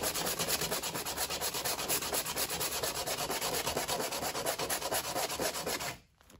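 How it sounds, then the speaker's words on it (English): Steady, continuous sanding rasp on the edges of a wooden hollow box, loud and close with a brisk back-and-forth scratching texture, stopping abruptly near the end. "call it 35 minutes of sanding, I got all the edges down."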